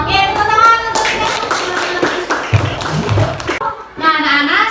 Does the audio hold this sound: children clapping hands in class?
yes